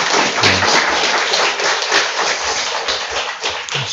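Congregation applauding a student church choir after a year of worship singing, steady dense clapping with scattered sharper claps filling the room for the whole stretch, no talking.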